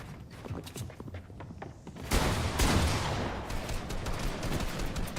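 Gunfire in a video game played at a school esports tournament: rapid bursts of shots crackling over a busy mechanical background, rising to a loud, dense volley midway and continuing to the end.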